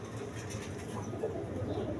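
High-flying Giribaz pigeons coo softly in a close, continuous low murmur against steady background noise.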